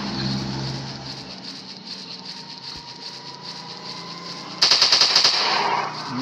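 Continuous rapid machine-gun fire from a dinosaur-hunting shooting game on Android, loud and steady throughout, with a sharper, louder volley near the end.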